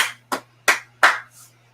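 Four sharp hand claps from a single person, spaced roughly a third of a second apart and close to the listener, with a faint steady hum underneath and no talking.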